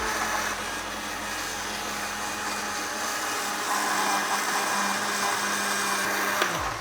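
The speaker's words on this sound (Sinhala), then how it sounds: "කෙලිම මේක වහලා අපූර්වට ග්‍රයින්ඩ් කරගන්නවා." An electric grinder whirs steadily as it blends coconut sambol for thosai, a continuous motor drone with a slight rise in pitch midway before it winds down and cuts off near the end.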